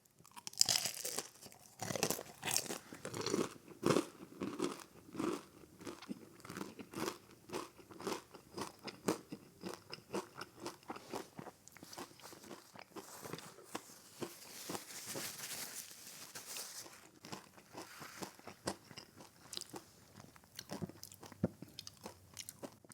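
Someone bites into a crispy breaded Jollibee chunk and chews it, giving close, irregular crunching and crackling bites that soften as the chewing goes on, with no talking.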